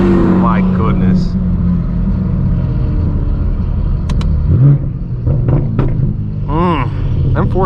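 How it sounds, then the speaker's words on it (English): A straight-piped BMW M4 F82 rumbles loudly through its exhaust as it drives along, a deep continuous roar with brief revving swells, heard from nearby over road and wind noise, with someone talking over it. "M4 sounding really good today as well."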